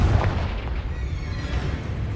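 A deep, booming blast from the Confringo fire spell in Hogwarts Legacy, a heavy low rumble that rolls on and decays slowly over a couple of seconds.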